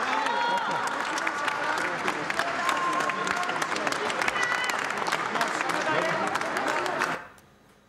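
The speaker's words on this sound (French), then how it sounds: "le docteur Nicolas Bonnemaison qui sort sous les applaudissements du public qui a assisté à ce procès" A public audience at a court trial applauds as Dr. Nicolas Bonnemaison walks out, dense sustained clapping from a crowd in a room that stops abruptly near the end, with voices mixed faintly underneath.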